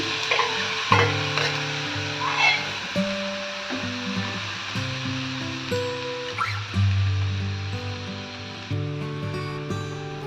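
Chopped tomatoes hit a hot pan with toasted sesame seeds for a South Indian tomato chutney, giving a steady close sizzle with occasional stirring scrapes over soft background music.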